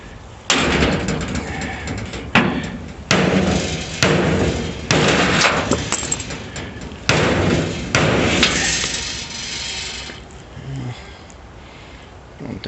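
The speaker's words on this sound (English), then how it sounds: "My hammer. See if I might be able to hit it right here." Hammer blows on the bent inside door plate of a 1937 Dodge Brothers car, about eight heavy metallic thuds in an irregular series, close and loud.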